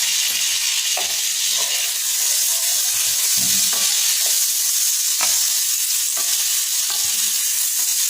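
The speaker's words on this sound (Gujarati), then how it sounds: "તેની સાથે આપણે 1 ટેબલ સ્પૂન જીરું એડ કરીશું।" Cumin seeds sizzling and frying in hot butter and oil for pav bhaji, a steady bright crackle with occasional stirring clinks of a spoon in the pan.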